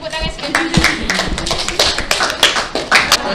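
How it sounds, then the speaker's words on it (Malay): A form two Islamic education class in a classroom claps hands together. The claps are loose and uneven, with some sharp close ones standing out over several seconds of scattered clapping. "Tepuk tangan sekali."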